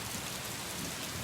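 Heavy rain pours steadily over Bengaluru, a dense, continuous hiss of drops drumming on surfaces, loud and enveloping without pause or voices.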